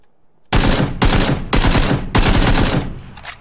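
Four loud bursts of automatic gunfire from the video game PUBG, each about half a second long and spaced evenly, sounding close, with a fainter burst trailing off at the end.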